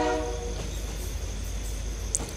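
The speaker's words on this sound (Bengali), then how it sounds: "বাইরে ট্রেনের হুইসেল শোনা গেল।" A train rumbles past outside, a dense low roar with a steady rolling hum and a brief high whistle note near the end, as in a horror audio drama.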